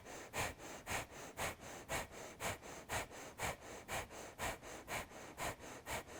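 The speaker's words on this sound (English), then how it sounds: "slow deep breathing or breath of fire" Rapid, rhythmic breath of fire during a morning Kundalini yoga flow: about twenty sharp, evenly spaced nasal exhales pulse close to the mic, with no talking.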